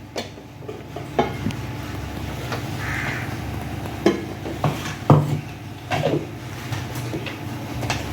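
A metallic lid clinks onto a pot of simmering kara kuzhambu with a few sharp knocks and rattles over a steady background hum; no talking.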